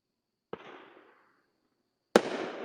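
Two fireworks burst in Tennessee, each a sharp crack followed by a crackling, fading tail. The first is fainter and the second is louder, with a long quiet gap between them.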